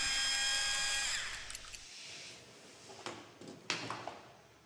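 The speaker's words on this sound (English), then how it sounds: "First, remove the one roll support using a T25 bit." A T25 bit in a power driver whirs steadily as it backs out the roll support screw on a General Transmissions CVT 08-1 transaxle, followed by a few faint clicks and clatters of small parts being handled.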